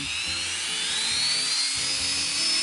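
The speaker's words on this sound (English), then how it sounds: "I put it on a mandrel and put it inside of my my Dremel tool here" A Dremel rotary tool whines at high speed as it shapes a wire prong for a large-stone wire-wrapped ring held on a mandrel, a close, steady, slightly wavering shrill drone with faint handling bumps.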